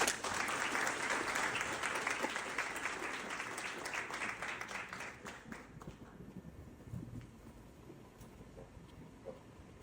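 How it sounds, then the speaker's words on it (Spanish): A university audience gives a speaker a strong round of applause that starts loud and dense, then trails off about halfway through to a few faint claps and a quiet room. "recibamos con un fuerte aplauso al doctor Bernal"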